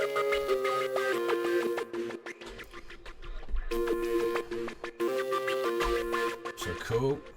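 A synth lead plays a repeating melodic phrase over a pulsing electronic beat, with choppy rhythmic breaks between bursts.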